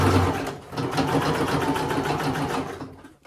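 A sewing machine runs steadily and loudly while stitching the lining of a thrifted denim armhole, with the motor's rapid needle rhythm continuous before it slows and stops near the end.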